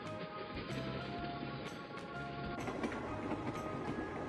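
A passing train rumbles along its tracks with a steady, rattling clatter of wheels and cars, the sound moderately loud and without voices.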